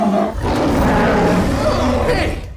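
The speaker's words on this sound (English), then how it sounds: "decided to update the voice using sounds of different animals. For example, a seal." Chewbacca's growling, roaring voice built from animal sounds such as a seal, a loud continuous throaty moan with wavering pitch lasting a couple of seconds.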